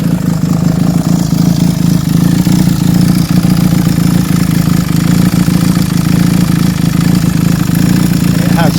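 A Honda CX500 motorcycle engine, which has had its valves done, runs at a steady, loud idle close by with a slightly rattly, tappety texture.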